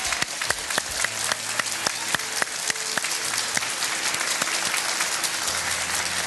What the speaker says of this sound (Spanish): quisiera que le brindemos un fuerte aplauso desde este programa